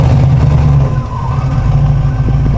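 A Mazda RX-7 fitted with an eight-rotor engine fires up and revs loud and close, a steady rumbling drone that dips briefly before rising again.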